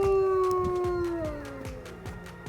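Wolf dogs in enclosures howl back and forth in winter near Banff National Park, several long overlapping howls that slowly fall in pitch, loud at first and then fading as others join more distantly.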